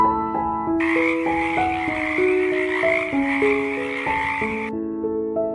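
A dense chorus of frogs croaking continuously, layered over a stepping tonal melody, steady and fairly loud for several seconds.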